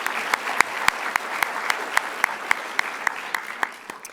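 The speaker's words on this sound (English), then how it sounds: "Yes, clap for that." Applause from a high school awards-night audience after scholarships are announced, a thin, sparse clapping with distinct individual claps standing out, fairly close and without talk.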